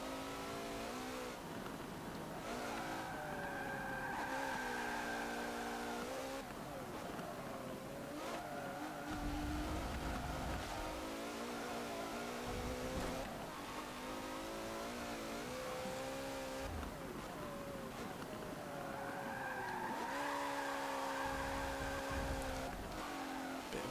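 A 1990 Jaguar XJ-S in Forza Motorsport 7 revs hard and loud through repeated gear changes and rising engine pitch, with a faint tire squeal as it drifts.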